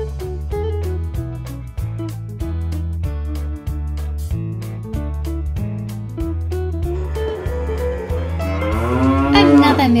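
Mooing sounds of cattle over a strongly rhythmic, music-like bed for a toy milking cow in a Playmobil farm playset, loud and continuous, with a rising, warbling moo near the end.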